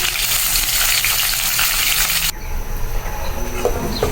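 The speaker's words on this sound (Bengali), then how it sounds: "বন্ধুরা আমি পেঁয়াজটা ভালো করে ভেজে নিয়েছি" Onions fry loudly in hot oil in a pan, a dense crackling hiss that drops abruptly to a lower, rougher sizzle partway through, heard up close without any voices.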